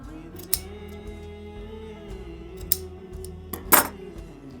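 Scissors snip yarn knots short on a handmade woven wall hanging, a few sharp separate cuts near the end, heard close up over a steady low background hum.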